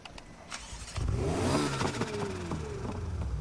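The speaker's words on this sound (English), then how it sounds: "Oh, the sweet sounds of muscle car glory." A 1990s Ford Mustang cranks and fires up after a quiet moment, then a throaty engine rumbles and revs with rising and falling pitch, loud and close, with no talking.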